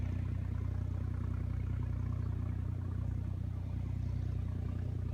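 A steady, low three-cylinder diesel engine of a John Deere 5065E tractor idles with a rough, even throb that holds unchanged throughout.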